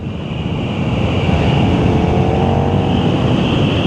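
KTM Super Duke 1390 R Evo motorcycle engine accelerating hard at or near full throttle, a loud, steady, continuous roar that holds strong through the whole stretch, with no speech.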